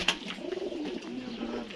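A pair of Sialkoti pigeons coo softly in a low, rolling murmur, steady and fairly close, with a brief sharp sound at the start.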